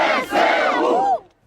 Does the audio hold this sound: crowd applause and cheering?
yes